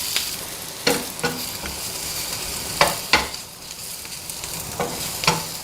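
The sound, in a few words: sautéing capsicum in a pan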